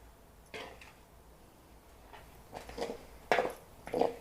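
A spoon mixing turmeric into chopped raw mango pickle (motte avakaya) in a vessel, making irregular scraping and clinking strokes that grow louder toward the end, close by and with no one speaking.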